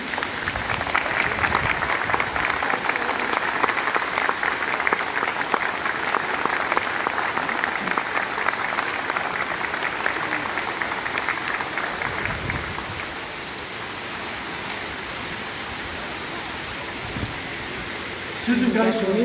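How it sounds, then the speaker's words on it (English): Sustained applause from a ceremony audience, a broad wash of clapping that holds for about twelve seconds before thinning into a quieter tail, with brief sounds at the very end. "let's give her one more round of applause"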